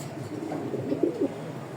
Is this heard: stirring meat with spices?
no